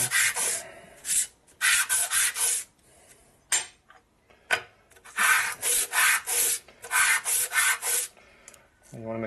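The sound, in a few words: sanding a Harley panhead rocker block flat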